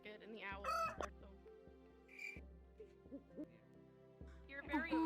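A rooster crowing cue from a VRChat roleplay plays among other short animal sound effects, with voices talking between them. The sounds are quiet overall, and a sharp crow-like burst rises near the start and again at the end.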